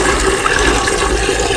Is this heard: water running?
yes